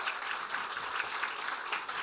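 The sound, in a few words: applause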